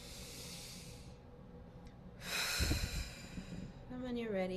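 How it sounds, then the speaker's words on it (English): Slow, deep breaths drawn in and let out close by, one long airy exhale followed by a fuller inhale, with a voice faintly present. "And a couple more deep breaths."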